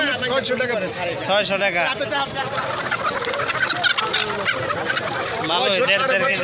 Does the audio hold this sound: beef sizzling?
no